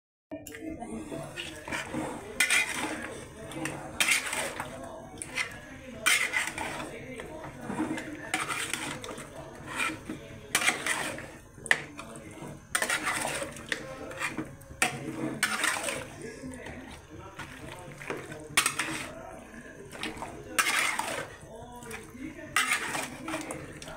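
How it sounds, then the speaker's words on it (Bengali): A wooden spatula works through a pot of simmering curry with repeated, fairly regular scraping strokes, each one a short, dull knock. People talk throughout. "কাঠের খুশনি নাড়তে হবে, বুঝছো?"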